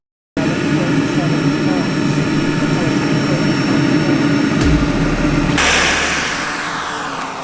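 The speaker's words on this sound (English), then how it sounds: "I think I'll do a flight on the jet." An RC model jet aircraft engine runs loud and steady with a high whine, then the pitch shifts and the roar eases slightly toward the end.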